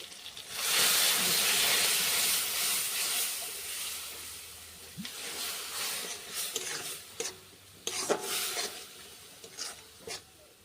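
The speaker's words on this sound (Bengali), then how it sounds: "একটু জল দিয়ে দিচ্ছি।" Water poured into pumpkin curry in a hot pan bursts into a loud steaming hiss that slowly fades, followed by intermittent scraping stirs.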